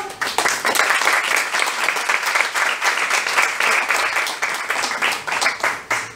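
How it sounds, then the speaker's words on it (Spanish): An audience claps to welcome three panelists at an art discussion panel, producing sustained, dense applause with a lively, slightly uneven patter that holds for about six seconds. "Le damos la bienvenida a ellos tres con un gran aplauso."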